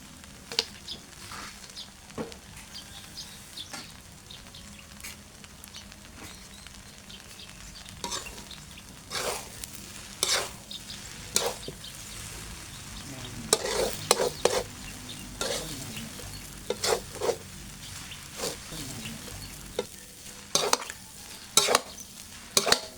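Glass noodles with egg and pork sausage being stir-fried in a pan: a steady sizzle under repeated sharp scrapes and clacks of a spatula, with no voices.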